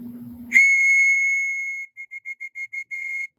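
A shrill handmade aluminum whistle blows one long steady blast, then a quick series of short pips, ending in a final sustained note.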